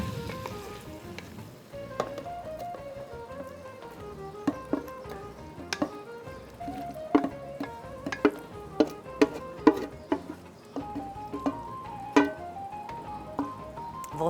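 Pieces of eggplant tip into a pan and get stirred, giving a faint sizzle under a string of sharp clinks and scrapes of a utensil against the pan, irregular and close, with no talking.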